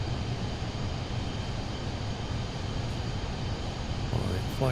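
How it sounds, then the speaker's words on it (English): Airliner engines in Microsoft Flight Simulator 2024 roar steadily on takeoff, with a constant broad rumble and low drone left loud throughout and a faint rising tone near the end. "I left it on loud so we could hear the engines on takeoff."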